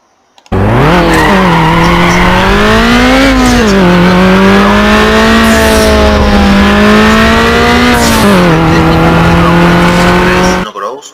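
Engine of a car in a Need for Speed racing game revving loudly and continuously for about ten seconds, pitch rising and shifting through gears with turbo whine and tire squeal, close and dominant.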